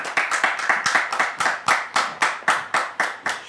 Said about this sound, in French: recevoir le pasteur David sous vos applaudissements